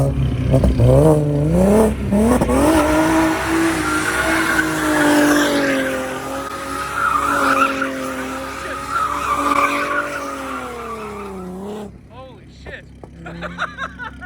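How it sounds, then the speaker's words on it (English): An Audi B5 with a five-cylinder engine does a burnout in front of a five-cylinder shop: a long, loud, wavering tire squeal with engine revving that cuts off near the end, followed by excited voices. "B5 just beat 5 cylinders best burnout in front of a 5-cylinder shop."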